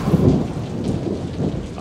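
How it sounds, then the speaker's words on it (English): Heavy rain hisses through a forest while low thunder rumbles underneath, a steady loud wash with swelling deep rolls and no voices. "And now the howls and rain of the forests get Santa to thinking."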